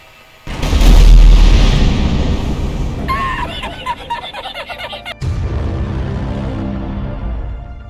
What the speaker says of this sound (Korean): 자, 이번에는 이 기름 탱크를 10층 높이로 쌓아 올렸습니다. 바로 이제 폭발 테스트 갈게요.